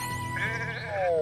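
A sheep bleats in the video game Renowned Explorers, one drawn-out bleat rising over a steady game music bed.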